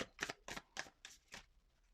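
Tarot cards shuffled in quick bursts, five crisp riffling strokes in a steady rhythm, close and fairly quiet with no talk.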